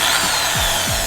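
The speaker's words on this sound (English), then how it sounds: "All you need is your drill, and it literally just attaches on like a drill bit." A power drill fitted with a headlight restoration polishing attachment spins steadily at high speed, giving a continuous loud whirring hiss with slight pitch dips as load changes.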